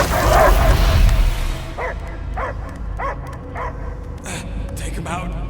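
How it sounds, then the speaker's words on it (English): Game dog in Marvel's Guardians of the Galaxy barking in a run of five or six short, evenly spaced yelps after a loud opening burst of sound, heard fairly close over a low rumbling background. "I hear only barking."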